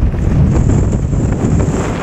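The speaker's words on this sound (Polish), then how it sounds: "ale wieje" Strong wind of about 55 km/h buffets a microphone while someone rides outdoors, making a loud, continuous rushing roar with no pauses and no voices.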